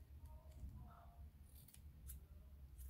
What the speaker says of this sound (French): Et là, je coupe ici.